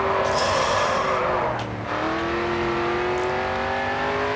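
A Mustang drifting in the GRID 2 racing game: loud engine drone with a sustained tyre squeal as the car slides through a corner, pitch dipping briefly mid-slide before steadying.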